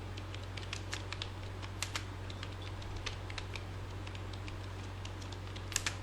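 Computer keyboard typing, with a faulty space bar, during an online class session: scattered light clicks and taps at a steady uneven pace, close but soft over a constant low electrical hum, no voices.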